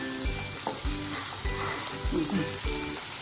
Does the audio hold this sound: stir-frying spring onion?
yes